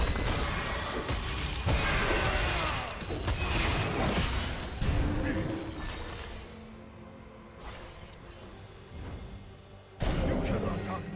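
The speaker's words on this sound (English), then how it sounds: "Blue team's turret has been destroyed" A turret being destroyed in League of Legends, heard as loud crashing impacts and shattering bursts amid dense battle effects, fading to quieter game sounds before another sharp blast near the end.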